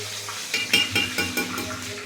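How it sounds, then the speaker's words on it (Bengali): Bay leaves and dried red chillies frying in hot oil in a kadai, a steady close sizzle punctuated by a few rhythmic stirring scrapes, with no talking. "এই যে তেজপাতা, শুকনো লঙ্কা ভাজছি।"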